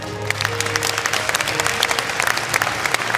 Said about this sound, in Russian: наши герои заслуживают аплодисментов